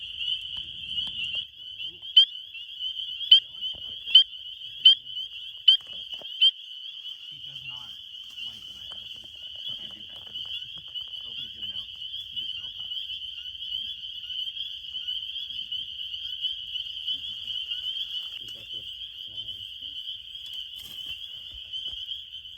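Spring peeper frogs call together at night in a dense, continuous high-pitched chorus. A few louder, sharper peeps pulse rhythmically near the start over the steady wall of calls.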